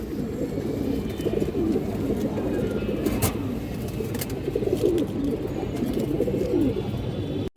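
Pigeons of fancy breeds coo steadily up close, soft low rolling calls repeating throughout, with a faint sharp click or two and light background hiss.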